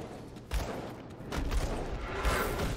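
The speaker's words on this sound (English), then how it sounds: "eating salvos of gunfire from around the corner" Salvos of gunfire in the video game Grim Dawn: bursts of sharp, noisy shots crackle in clusters over a busy background, moderately loud, with no speech.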